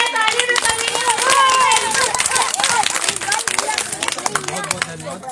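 Audience applause at a Republic Day dance event honouring a guest, dense clapping running throughout, fairly loud, with crowd noise and someone talking over it.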